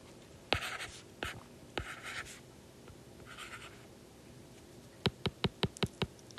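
Someone writes math by hand, with scratchy pen strokes and short bursts of scribbling, then a quick run of sharp taps near the end.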